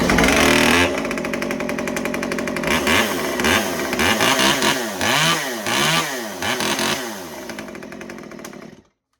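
A Stihl MS194T chainsaw with a bolt-on performance muffler runs loudly up close, revving up and down in repeated surges and settling briefly before cutting off abruptly.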